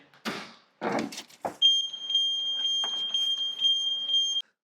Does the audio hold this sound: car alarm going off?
yes